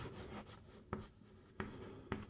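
A pen writes on paper, soft scratchy strokes with three sharper taps at the ends of the marks, quiet and close, with no talking.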